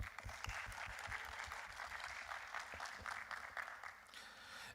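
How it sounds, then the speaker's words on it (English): Audience applause at a BSidesTLV security conference honoring the CTF riders: dense, steady clapping from a crowd that holds strong throughout, then thins slightly near the end. "hopefully you with a round of applause for our amazing CTF riders"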